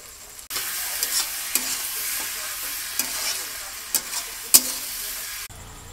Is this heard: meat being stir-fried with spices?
yes